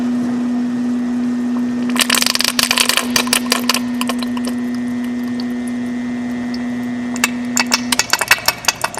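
A Cretefill machine pumping material until its tanks run empty, a steady loud mechanical hum with a tonal whine, overlaid by bursts of rapid rattling and clattering.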